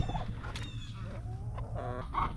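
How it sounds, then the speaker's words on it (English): A frizzle chicken clucks close by in a series of short, uneven calls with brief pauses between them, set against quiet background noise and no talking. "I want to share this weird chicken with you guys that I have"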